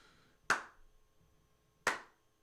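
Two slow, sharp hand claps from a single person, spaced more than a second apart, loud and near in a quiet room with no one joining in.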